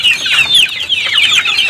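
Hungry chickens being fed in the morning on a village farm, a dense, continuous chorus of clucking and squawking from many birds close by, with no one talking.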